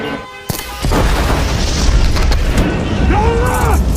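A large blast in an action film's ambush scene, where soldiers attack a convoy of militants on a road, hits suddenly and is followed by a heavy rumbling roar with bright tonal effects near the end.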